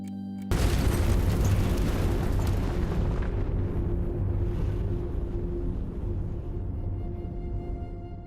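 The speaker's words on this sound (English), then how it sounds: "Addie Mae Collins, Carol Robertson, Cynthia Wesley, and Denise McNair were killed instantly when the bomb went off" Dynamite planted by the Ku Klux Klan just outside a church basement goes off in a sudden loud boom, followed by a heavy, sustained roaring rumble that slowly fades over several seconds.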